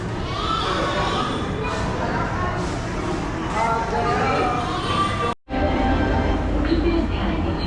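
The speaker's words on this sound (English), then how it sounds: "Here comes a train" A train in India rumbles and clatters along nearby, steady and loud, with people talking in the background.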